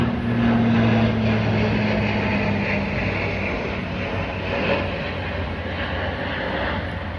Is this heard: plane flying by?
yes